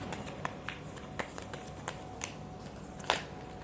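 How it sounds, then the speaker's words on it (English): Tarot cards are shuffled by hand, a series of quiet, crisp riffling snaps at an uneven rhythm over a faint background hiss, with one sharper slap near the end. "now I will shuffle your tarot cards"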